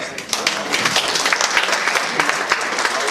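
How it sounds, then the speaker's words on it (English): Steady applause from the audience at a Broward County sheriff candidates forum, a continuous wash of clapping with scattered sharper claps, heard close with voices mixed in. "I heard some sort of guilty applause"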